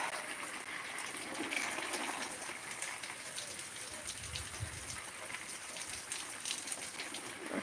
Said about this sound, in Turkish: Şuradakileri şöyle hortumu fışkırtarak ta